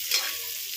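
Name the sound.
marinated fish frying on a tawa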